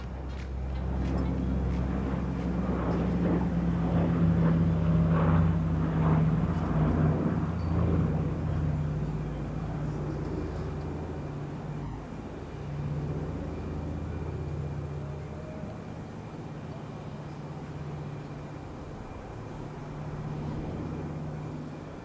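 Radial piston engines of a Douglas C-47 Skytrain at an air show run with a steady, droning low rumble that swells and eases slightly, heard alone without talk.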